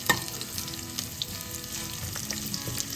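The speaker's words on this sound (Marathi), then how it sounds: "आता हा कांदा आपल्याला छान गोल्डन रंगावर येईपर्यंत परतून घ्यायचा आहे" A large sliced onion sautés in a pan toward golden brown, a close, steady sizzle with occasional crackles and light stirring scrapes, no voices.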